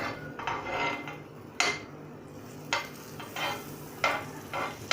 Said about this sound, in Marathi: साईडने आपण थोड़ा बटर टाकायचं आहे